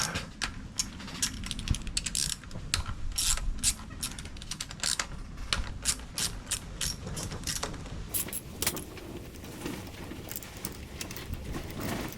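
A ratchet works on the thermostat housing bolts of a Classic Mini Cooper, producing rapid metallic clicking and ticking in uneven bursts close by, with small clanks of tools and parts throughout and no voices.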